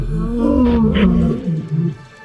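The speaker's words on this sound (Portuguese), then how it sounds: "Eles rugiam e faziam barulho." Lions of the Mapogo coalition roar loudly and close, deep rumbling calls rising and falling over about two seconds, with no one talking.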